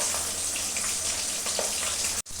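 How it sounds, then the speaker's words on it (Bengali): Fish frying in hot mustard oil in a wok makes a loud, dense, crackling sizzle close by, cut off by a brief dropout near the end. "আমি এবারে মাছগুলোকে ভেজে নেব।"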